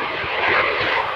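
An aircraft makes a display pass at the Royal International Air Tattoo 2014 airshow at about 120 knots, its engine roar loud and steady, swelling slightly mid-pass with no talk.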